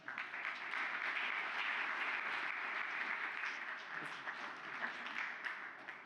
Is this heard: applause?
yes